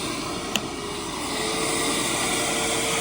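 A DeWalt power tool runs off a portable solar power station, giving a steady, fairly loud whirring drone that holds constant after a brief click near the start.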